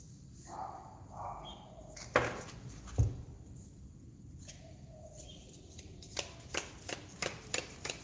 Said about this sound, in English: Give me time to get the cards out.